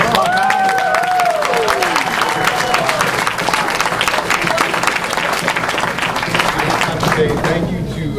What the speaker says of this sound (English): Give all these kids a round of applause.